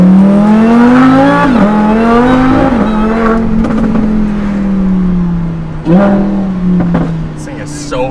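A Lamborghini fitted with a $10,000 aftermarket exhaust revs hard and close, its engine note climbing and dropping through several loud throttle blips with sharp crackles between them.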